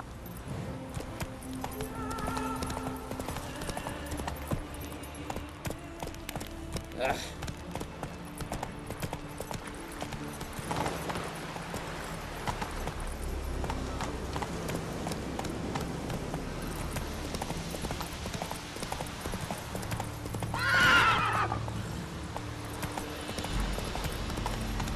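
Hooves clip-clop steadily as a horse gallops through The Witcher 3, with game ambience around it and a brief louder burst near the end that may be a whinny.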